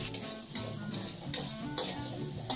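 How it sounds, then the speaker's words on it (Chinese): Minced meat stir-fried with shallots, carrots and green peas in a hot wok, a loud continuous sizzle broken by regular scraping strokes of the spatula, close up and with no speech. "先把肉末炒散，再放一些葱头爆香，炒好水的红萝卜青豆放下去"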